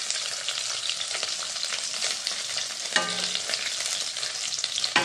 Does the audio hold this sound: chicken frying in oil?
yes